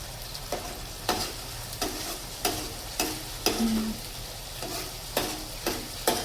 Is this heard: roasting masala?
yes